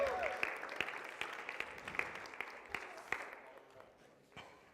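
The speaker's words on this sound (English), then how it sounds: "just give me a round of applause" Scattered audience applause after a live evening stage show, with claps and a few louder hits over a steady murmur of crowd noise, fading toward the end.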